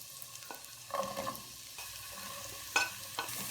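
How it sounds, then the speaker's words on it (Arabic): Garlic and onion frying in butter with a splash of olive oil, a soft steady sizzle with a few louder stirring scrapes of the spoon in the pan, close by with no talking. "اول حاجه نحط الزبده، نحط معاها سنه زيت زيتون عشان ما تتحرقش. كده هننزل اول حاجه الثوم، كده هنزل البصل"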